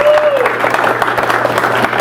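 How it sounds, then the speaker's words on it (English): Applause at an indoor couponing and preparedness meeting, a crowd clapping steadily and close with individual claps standing out, a low electrical hum beneath and some voices mixed in. "Come on, let's give him a round of applause."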